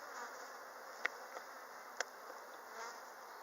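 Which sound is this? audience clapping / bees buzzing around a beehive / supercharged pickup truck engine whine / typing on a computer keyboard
bees buzzing around a beehive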